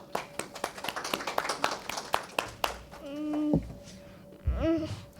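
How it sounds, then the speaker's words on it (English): A brief burst of scattered hand clapping from a small crowd, fading as a voice begins speaking. "Everybody give her a round of applause."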